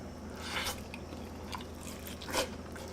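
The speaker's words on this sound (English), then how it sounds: "I'm going to take a bite of this." Bites into a juicy grilled Cornish hen cooked on a Ninja Foodi XL smart grill, two or three moist squishy chewing bursts up close over a low steady hum.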